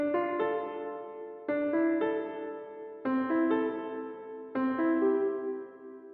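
A short melodic phrase played through reverb with high and low cut EQ applied, four quiet repeated note groups with soft decaying tails, no voices.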